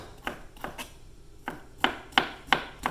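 A knife slices green peppers on a cutting board in a series of crisp, close chops, slow at first and then a quicker, sharper run of cuts.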